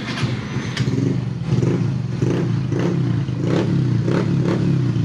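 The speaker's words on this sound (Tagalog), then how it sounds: "subukan natin paanda rin yung motor" A motorcycle that keeps stalling and won't charge its battery is push-button started and settles into a steady running engine, with regular pulsing thumps and a rattly mechanical clatter close by.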